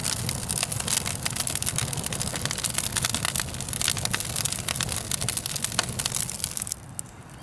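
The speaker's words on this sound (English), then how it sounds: "I added the first small layer of coal, so you can hear that coal crackling." A small first layer of coal burning in a chimney coal stove, a dense steady crackling and popping that runs continuously at a fairly close distance before tailing off at the end.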